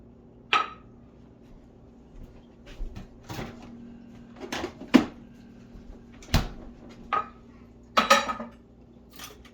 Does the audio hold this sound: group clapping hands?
no